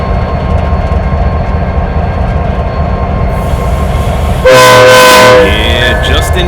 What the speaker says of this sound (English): 2 horn blasts and the air release.